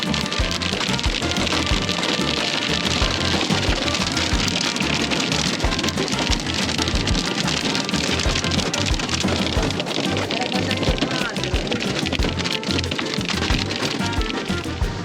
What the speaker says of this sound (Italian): Grandine no!